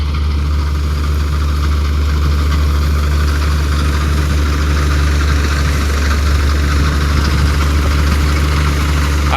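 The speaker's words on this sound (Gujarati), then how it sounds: "ને આ સૌરાજ 744 મિત્રો આપણે આ 5મું ટ્રેક્ટર છે સૌરાજનું." A Swaraj 744 tractor engine idles steadily and loudly up close in a village setting, its low, even chugging rumble continuing without pause and with no talk over it.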